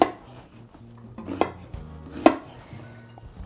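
A kitchen knife thunks through onions and peppers on a cutting board, several distinct chops landing a second or so apart, close and fairly loud, with soft board and utensil clatter between strokes.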